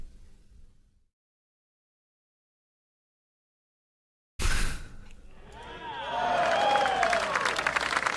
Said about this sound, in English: we should loop that for the golf clap